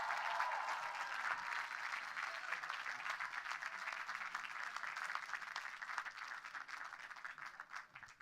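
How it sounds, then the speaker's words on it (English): A steady wash of crowd applause at a graduation ceremony, many hands clapping at once, fairly distant and sustained throughout before tapering slightly at the end. "Let's give him another round of applause."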